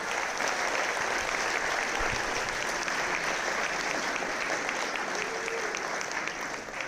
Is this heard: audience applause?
yes